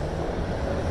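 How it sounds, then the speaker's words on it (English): A PATH commuter train passes in Harrison, a low steady rumble heard from a distance, with no talk over it. "you can hear the train. It's the path."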